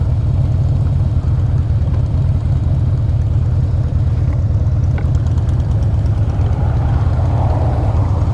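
A 2014 Harley-Davidson Breakout FXSB motorcycle engine on a test ride, a loud steady low rumble with a fast throbbing pulse held evenly throughout, with a soft rush of wind over it.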